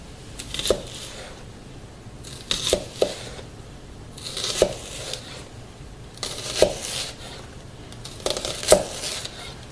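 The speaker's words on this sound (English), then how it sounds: "Doing this, I can start making slits through the onion." A kitchen knife makes slits into an onion on a board, several crisp cutting taps at irregular intervals, close and moderately loud, with no talking.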